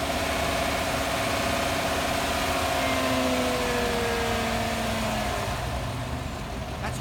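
A Chevrolet Silverado pickup's engine idles at low revs, a steady, even rumble with a faint tonal drone that sags slightly, heard close and continuous with no voices.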